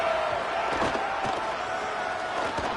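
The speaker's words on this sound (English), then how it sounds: "how nice is it to have the home crowd going absolutely bananas?" A home crowd at a college football game, Utah State at Utah, roars as a continuous wash of noise, with thuds and shouts rising through it and a commentator talking over the top.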